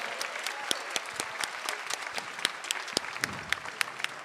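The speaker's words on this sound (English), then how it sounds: "Let's give them a round of applause." Scattered audience applause at a middle school spring instrumental concert, crisp individual claps standing out over a thinner bed of clapping, moderately quiet and fairly sparse.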